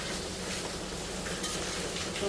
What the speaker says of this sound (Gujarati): એકદમ સારી રીતના બધું મિક્સ કરીએ.